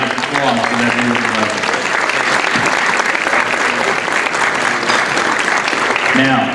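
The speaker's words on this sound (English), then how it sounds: "he deserves a round of applause for that beautiful" A gala audience gives sustained, dense applause filling the room throughout, with a speaker's voice heard briefly at the start and again near the end over the clapping.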